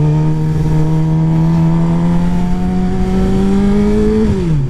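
Motorcycle engine revving out of a turn, a steady loud drone climbing gradually in pitch, then a quick drop near the end as it shifts, close and alone without talk.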